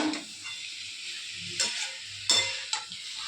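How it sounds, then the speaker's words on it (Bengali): Fish sizzles steadily in hot oil, a continuous crackling hiss with a few louder spatters and scrapes, no voices. "আর এখানে হচ্ছে মাছ ভাজা"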